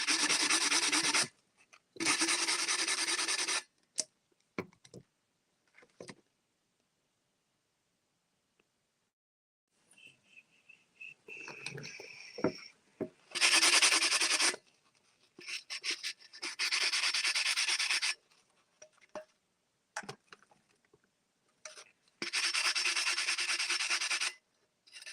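Sanding an epoxy coating on a tumbler by hand: close, gritty rubbing strokes come in several bursts of a second or more, separated by quiet pauses, with a few short scrapes in between.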